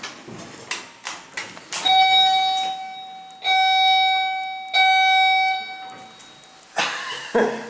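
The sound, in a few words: hydraulic elevator chime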